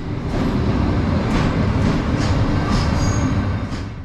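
A Romanian CFR electric locomotive hauls a rake of sleeper coaches past, a loud steady rumble of rolling stock with faint wheel squeal and occasional high clicks throughout, no voices.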